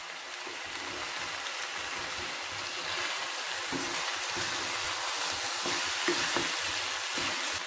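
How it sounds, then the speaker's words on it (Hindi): Chicken and noodle filling for Chinese samosas fries with vinegar and soy sauce in a pan at a Mumbai street food stall, making a dense, continuous close sizzle with light stirring throughout. "और इसे अच्छे से फ्राई करेंगे।"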